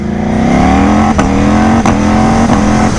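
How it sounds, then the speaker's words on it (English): Ducati Panigale V4 sportbike with an aftermarket exhaust, accelerating hard with rising revs through quick gear changes, each shift marked by a sharp pop or crackle, very loud and close. "You can hear the pops in that aftermarket exhaust too, which sounds really good."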